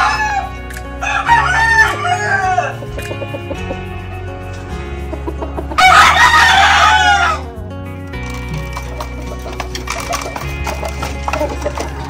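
A Blueface Hatch gamefowl rooster crows twice, loud and close, with clucking in between over a steady low background hum.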